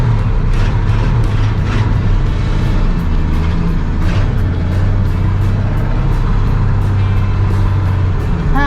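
A 1965 Ford F100 pickup truck engine runs steadily with a low rumble, loud and close, holding a constant drone as the old truck pulls away.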